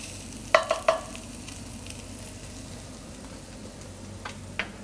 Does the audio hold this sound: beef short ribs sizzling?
yes